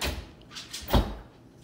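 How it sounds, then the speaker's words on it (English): A house door is pulled open only partway, producing a few soft creaks and rattles followed by a dull knock, with no voices. "The door opens two feet wide."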